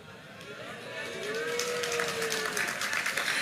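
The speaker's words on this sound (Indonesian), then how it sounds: "Enggak perlu tepuk tangannya" Scattered applause from a church congregation during a sermon, rising gradually from a soft patter into fuller clapping that stays moderately quiet, with a brief tonal murmur from the room partway through.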